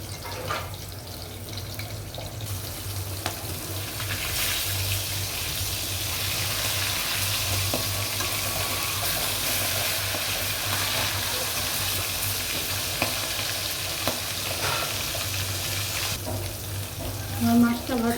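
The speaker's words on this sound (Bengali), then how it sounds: "আমার মাছটা ভাজা হয়ে গেল।" Hilsa fish frying in a pan of oil, a steady close sizzle that holds throughout with faint stirring and clinks.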